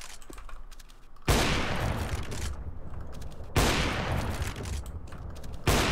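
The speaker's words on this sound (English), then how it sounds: "Like the gun stutters from it" Gunfire from the CS:GO video game comes in three loud, sustained bursts of rapid shots, each cutting in abruptly and ringing out before the next.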